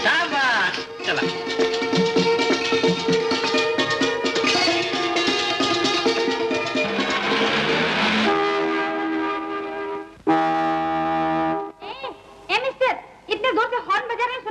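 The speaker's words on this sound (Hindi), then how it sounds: "इतने जोर से हॉर्न बजा रहे हैं, सुनाई नहीं देता क्या?" A vehicle horn honks loudly in a 1962 Bollywood action film, with long sustained blasts and then short repeated honks, alongside voices and music.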